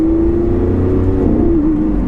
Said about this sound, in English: you get to hear the V12, and there is no sound like a Lamborghini V12